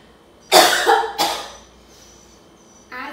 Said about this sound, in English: And when we cough, you can see how far they spread.